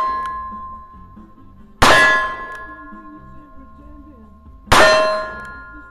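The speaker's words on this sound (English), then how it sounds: "I'll be shooting it some steel, and hopefully I hit him each time and you'll hear it." Steel targets ring with two sharp, bright clangs from .357 Ruger Convertible revolver hits, each strike leaving a long metallic ringing tail that fades before the next.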